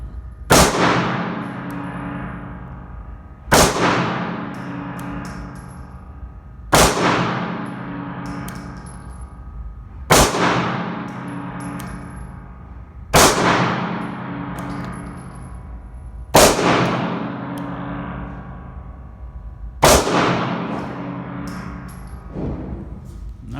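Seven loud CZ75B pistol shots fired at a shooting range, spaced about three seconds apart, each a sharp crack with a ringing echo tail, with no talking.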